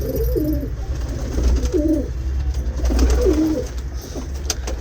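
Pigeons coo nearby in repeated soft, throaty phrases, about three rounds, over a low steady background hum.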